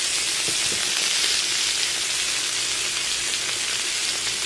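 Potatoes and onions fry in a pan with a loud, dense, even sizzle that holds steady and close throughout, with no voices.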